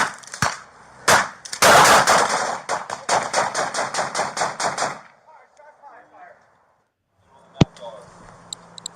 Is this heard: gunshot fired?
yes